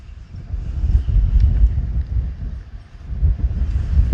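Gusty wind buffets the microphone outdoors on a windy day at an off-grid homestead, a deep rumbling roar that swells and eases in waves with no voices.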